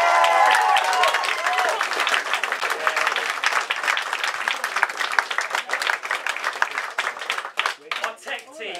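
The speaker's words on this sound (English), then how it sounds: "Phil, Sue, Linda and Ben, a big round of applause." An audience at a comedy variety show claps in sustained, dense applause that gradually thins into scattered claps, with a voice speaking briefly at the start.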